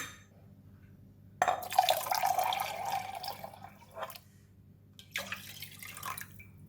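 Syrup of Gula Melaka palm sugar and liquid poured into a pot, a steady splashing pour starting abruptly, easing off, then a brief second burst of liquid near the end.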